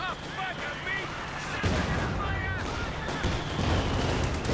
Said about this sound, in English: Where's that suppression barrage going?